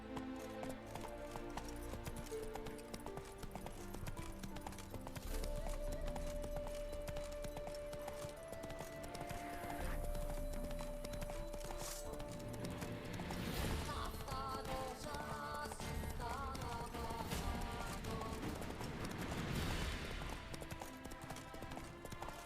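Roach, the horse in Witcher 3, galloping with a rapid continuous clip-clop of hooves under game music, fairly quiet throughout.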